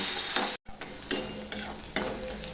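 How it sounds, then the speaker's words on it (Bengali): Grated onion fries loudly in a pan, sizzling steadily while a spatula stirs it in a few strokes close up. "পেঁয়াজটা দিয়েও আমি ভালো করে ভেজে নেব"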